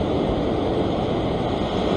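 Ocean surf washes against the rocks of a rock pool area at Maroubra, Sydney, a continuous close roar with steady wind noise on the microphone.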